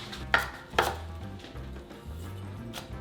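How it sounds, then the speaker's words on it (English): Fresh cilantro is chopped with a knife on a cutting board. Two sharp, close strikes land early, then softer, quicker taps follow, alone and without talk. "chopped cilantro, which I gotta do next"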